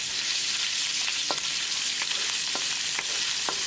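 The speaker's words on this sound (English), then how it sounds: "Cook ginger and garlic until the raw garlicky flavor is gone, like 10 to 15 seconds." Ginger and garlic sizzle steadily in hot oil with cumin seeds, a dense continuous crackle with a few soft scrapes of stirring scattered through, close and fairly loud, with no voices.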